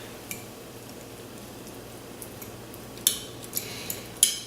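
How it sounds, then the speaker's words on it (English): A knife slices through a pan of pumpkin spice baked oatmeal with soft, quiet scraping, punctuated by a few crisp clicks of metal tapping the dish, close and faint against a low background hum. "let me cut a slice for you now"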